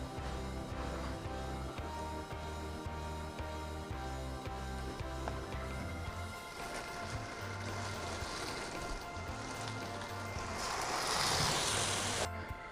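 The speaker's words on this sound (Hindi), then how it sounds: "अब इसमें हम लोग डाल देंगे हमारा मैरिनेट किया हुआ चिकन।" Marinated chicken goes into a pan of fried garlic-ginger paste for a simple chicken curry, and a broad, steady sizzle builds partway through, growing louder and harsher near the end, with a thumping musical backing before it.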